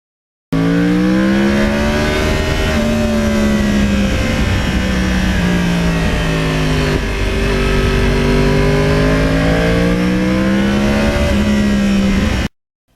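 A 2020 Yamaha R1 Crossplane 1000cc sport bike engine roars loudly and continuously, its pitch rising and falling in smooth sweeps as speed changes, heard close without any talk over it.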